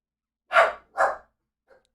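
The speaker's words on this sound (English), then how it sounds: "my dogs want to be in the video" Two sharp barks from dogs indoors, close and loud in quick succession, followed by a faint short huff in otherwise quiet surroundings.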